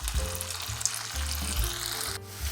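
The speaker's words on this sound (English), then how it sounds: "Now you want to place your french fries into some very hot oil." Long-cut potato french fries frying in very hot oil in a pan, a close, steady crackling sizzle over low background hum, with no voices.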